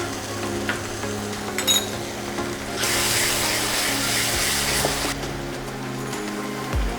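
Coriander and cumin powder frying in a pan for Afghani chicken, a close, steady sizzle with scraping stirs and a few clinks of a utensil, swelling into a brighter, louder hiss midway before settling back.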